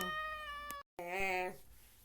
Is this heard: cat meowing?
yes